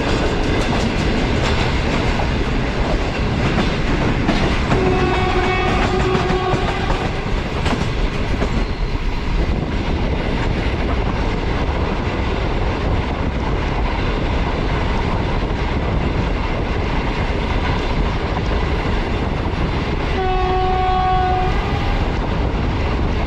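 A Green Line passenger train runs past Gujranwala railway station without stopping, a loud continuous rumble of wheels and cars with two sustained horn blasts, one early and one near the end.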